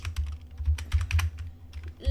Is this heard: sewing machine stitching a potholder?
no